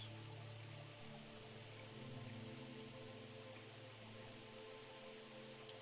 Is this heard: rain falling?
yes